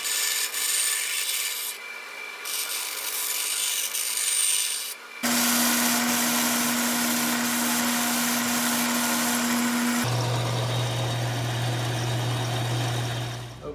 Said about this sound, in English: I'm just going to take and cut this shape out on the bandsaw